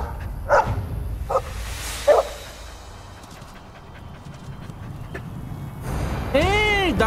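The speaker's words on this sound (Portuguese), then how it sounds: "É aquele cachorro lá!" Dog in Dragon Age: Origins at Lothering, a few short barks and yips close by over game ambience, with a whining cry near the end.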